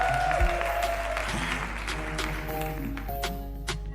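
A studio audience on a French TV show set applauds as an artist is welcomed. The clapping is steady and moderate and sits over a low hum, with faint musical tones in the background.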